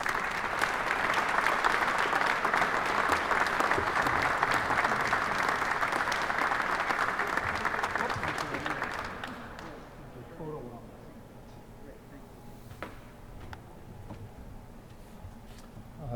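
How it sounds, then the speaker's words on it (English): Audience applause at an award ceremony, loud sustained clapping for about nine seconds that then dies down into quieter room noise with scattered claps. "Come on up, a round of applause for Emma."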